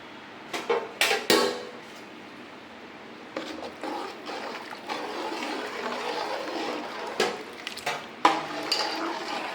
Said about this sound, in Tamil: இப்போ நல்லா ஒரு கிண்டு மீடியம் ஃப்ளேமில் வச்சு